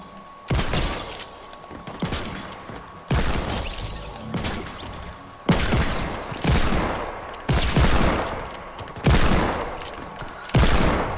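Repeated bursts of gunfire in Fortnite, including revolver and pistol shots, crack loudly in rapid clusters separated by brief gaps, each volley decaying with rattling debris and impact noise, close and dominant with no talk.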